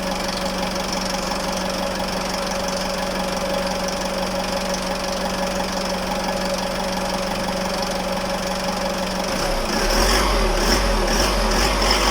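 A pickup engine idles steadily with a low, even rumble and faint knocking for most of the clip, after a noisy drive belt fix, then the tone shifts and roughens near the end.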